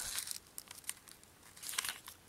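Paper crinkles and crisp rustles as origami paper is folded and pressed flat, several quiet, close bursts separated by short pauses.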